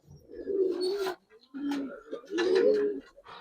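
A female Giribaz pigeon coos close by in three throaty, rolling bursts separated by short pauses, alone with no voices over it.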